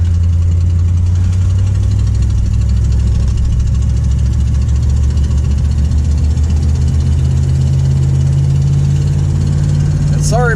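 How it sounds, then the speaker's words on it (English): A 1964 Ford Thunderbird with a 390 V8 runs steadily with an exhaust leak, a loud, close, continuous low rumble and ticking puff, with the engine note shifting slightly near the end and a brief voice at the close. "Sorry about the exhaust leak noise."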